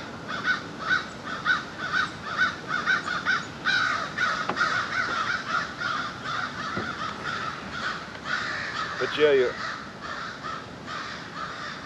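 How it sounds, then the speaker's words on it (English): Several crows caw repeatedly in the open while attacking a seagull, harsh calls rising and falling throughout, with a brief spoken comment partway through. "crows are attacking a seagull."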